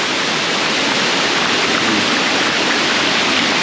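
Engkanto Falls in Libmanan, Camarines Sur roars steadily, a loud broadband rush of falling water that stays constant and close throughout, with no voices over it.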